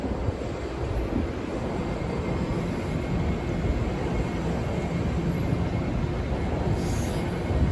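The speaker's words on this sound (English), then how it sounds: "I hear a train" A continuous low rumble and roar of a train passing at a distance on Yonge Street in downtown Toronto, steady throughout with no voices.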